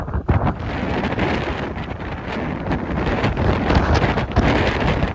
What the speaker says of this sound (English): But that wind is still ferocious.